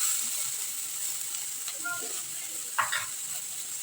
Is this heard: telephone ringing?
no